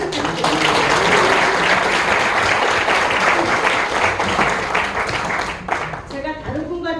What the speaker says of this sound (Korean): 박수 한번 좀 더 부탁드립니다